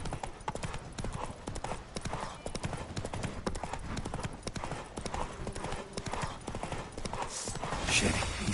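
Rapid, continuous hoofbeats from Roach galloping in The Witcher 3: Wild Hunt, loud and close, mixed with game music and shouted voices, building slightly toward the end.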